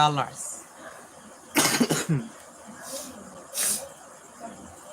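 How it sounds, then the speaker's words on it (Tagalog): A few sharp, harsh coughs burst out close to the mic, spaced apart with quieter breathy pauses and a bit of voice between them. "Kaon lang og ice cream, ubo na dayon."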